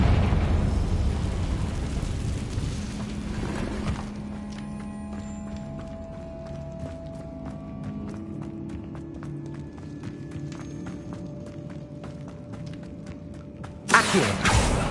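A Confringo fire spell bursting in a cave in the Hogwarts Legacy video game: a loud, rumbling blast at the start, then quieter footsteps and clicks, and a second sharp burst near the end.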